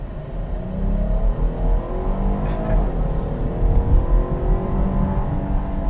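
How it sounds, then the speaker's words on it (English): A 2025 Jeep Grand Cherokee L's Pentastar V6 engine revs up and accelerates steadily, a loud sustained drone with rising tone, heard from inside the vehicle with no talking. "Get a little acceleration here. See how powerful this Pentastar engine is."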